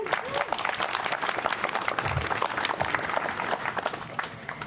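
An outdoor crowd claps at a Vietnam War memorial groundbreaking ceremony in Dunwoody, a steady patter of many hands running the full length at moderate volume, with brief low thumps and no clear speech over it.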